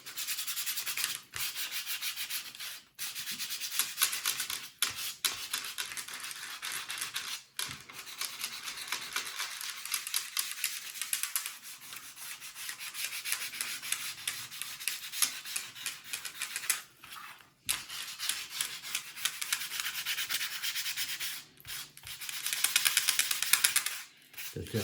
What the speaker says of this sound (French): Ça sert de rien de frotter comme un malade.